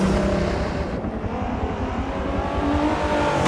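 Race car engine at Watkins Glen in Forza 7, a steady loud drone with rumbling low end and brief tire noise, holding constant through the corner without a pause.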